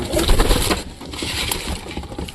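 Pigeons coo softly as they are being fed, amid a dense, rustling background of fluttering and scuffling, with no talking.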